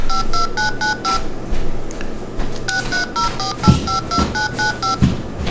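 A 12F683 bluebox plays a rapid touch-tone sequence of evenly spaced dial beeps, clear and close, over faint background noise.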